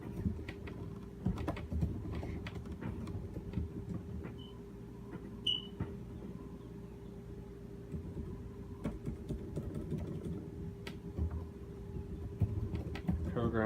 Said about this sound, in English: we'll just go ahead and type it out